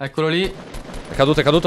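Gunfire in the video game Fortnite comes as a short burst of sharp shots between stretches of Italian speech from a player.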